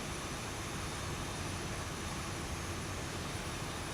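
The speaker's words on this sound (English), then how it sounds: "Well, because I started the APU again." The auxiliary power unit of a Boeing 737-800 running in the X-Plane 11 flight simulator, a constant broadband whine and rushing roar, steady and unchanging without talk.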